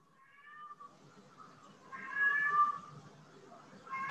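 A cat meows several times, fairly close and moderately loud, with wavering drawn-out calls over a quiet room background.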